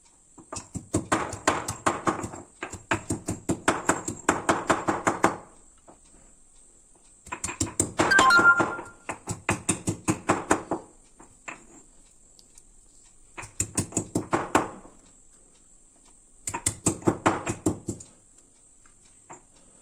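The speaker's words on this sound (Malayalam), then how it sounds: "നമുക്ക് ഇപ്പൊ ഇതൊക്കെ ഇട്ട് ചതക്കാം" Rhythmic pounding of Kashmiri chili, crushed chili powder and onion for a fish dish, heard as repeated thuds in several bursts with pauses between them, clear and close with no talk.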